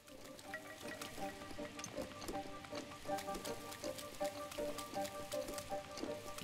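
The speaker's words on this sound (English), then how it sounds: "Yeah, it raining a lot is an understatement." Rain falling in The Legend of Zelda: Breath of the Wild, a steady soft patter of drops on surfaces with light splashy ticks, fairly quiet and continuous with no talking.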